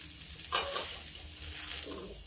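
Chopped onion browning in a pan for a vegetable-filled khichdi, giving a quiet, steady sizzle with a couple of brief stirring scrapes near the start and no voices.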